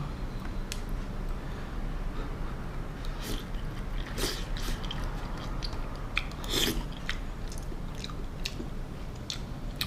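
Someone chewing a bite of Hokkien mee with egg, soft wet close mouth sounds with a few sharper clicks and smacks over a steady background murmur.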